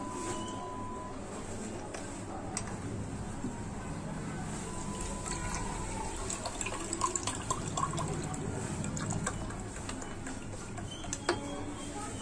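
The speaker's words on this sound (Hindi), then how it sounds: "इसमें मैं पानी ऐड करूँगा।" Water is poured into a mango shake made with creamy milk, a continuous splashing and filling sound lasting several seconds, with a few clicks and taps over steady background noise.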